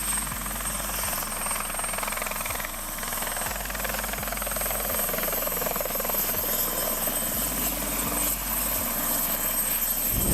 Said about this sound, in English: 8. Helicycle, turbine version.